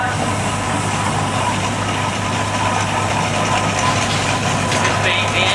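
A steam traction engine at a steam rally chugs steadily nearby with a deep, continuous rumble and a hissing, noisy wash on top.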